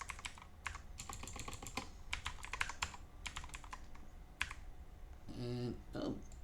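Fingers typing a password on a computer keyboard during an operating system setup, quick bursts of close, crisp key clicks with short pauses, ending in a couple of louder mouse or key taps.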